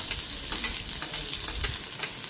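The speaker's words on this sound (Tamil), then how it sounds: "வெங்காயம் போட போறேன்" Chopped onions fry in a hot pan for a bread-based dish, a dense, steady, close-up sizzle with light crackles running throughout.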